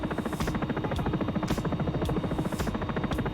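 Simulated Sikorsky S76 helicopter in X-Plane 11, a steady loud rotor thump with a dense buzzing engine drone pulsing about twice a second, alone and continuous throughout.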